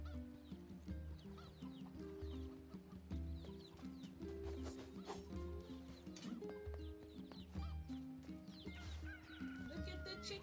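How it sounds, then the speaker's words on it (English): Chickens in the video game NieR Replicant cluck repeatedly in a farm area, mixed with clip-clopping hoofbeats and the game's background music, fairly quiet and steady throughout. "Look at the chickens!"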